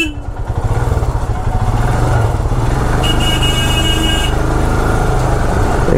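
A motorcycle engine drones loud and close while riding on a road toward the Arunachal border in Assam, with a steady, rumbling note that never stops.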